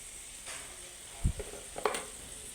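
Ivy gourd fry with garam masala stirred in a pan, heard as a few short scraping and sizzling strokes against a quiet background.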